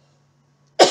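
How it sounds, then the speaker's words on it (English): A single harsh cough, lingering from a sinus illness, bursts out loud and close at the very end after near silence. "Still got this cough a little bit."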